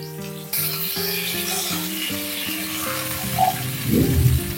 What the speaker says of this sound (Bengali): এটাকে একটু কষাবো, একটু ভাজবো